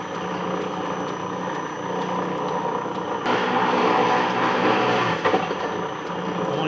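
Metal planing machine cutting steam stoker engine cross head guides, a loud continuous mechanical roar with grinding undertones, surging and swelling partway through, with a few sharp clanks near the end.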